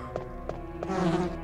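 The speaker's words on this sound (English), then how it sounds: "Oh god, I hear buzzing in my ear!" Bees buzzing in Resident Evil: a low, steady insect drone with a few soft ticking pulses, swelling louder toward the end, with no talk over it.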